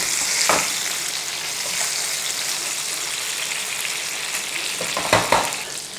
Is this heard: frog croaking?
no